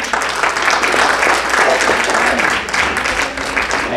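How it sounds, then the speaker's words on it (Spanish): A church congregation gives a loud, sustained round of applause, dense clapping filling the room evenly for several seconds with a faint murmur of voices underneath. "Un fuerte aplauso al Señor"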